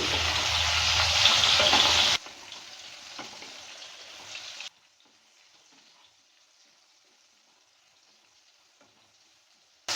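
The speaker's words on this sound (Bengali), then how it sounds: "পটলটাকে আমি ভালো করে ভেজে নেব লাল লাল করে" Pointed gourd (potol) tossed with salt and turmeric fries in a pan, a loud hiss for about two seconds that drops to a softer sizzle and then fades to near silence.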